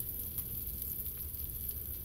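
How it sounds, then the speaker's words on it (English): Bacon sizzles and crackles steadily in a frying pan for a full-breakfast fry-up, a continuous close hiss with dense popping and no voices. "Nothing more mouth-watering than the smell of frying bacon."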